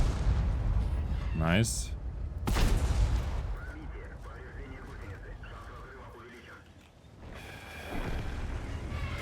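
Tank guns fire in World of Tanks gameplay of the ST-62 Version 2: two sharp, heavy cannon blasts early on with booming tails. The second shot is louder, and a voice talks briefly between rumbling battle noise.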